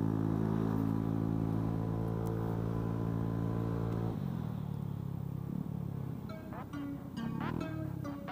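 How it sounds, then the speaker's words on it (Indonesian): Vespa S scooter engine revving hard and steady at high RPM for several seconds, then dropping back to a rough, uneven idle with a few light blips, close and loud. "Gading Martin ini, menurut gue ya, powernya dia untuk naik ke RPM atas itu lebih cepat."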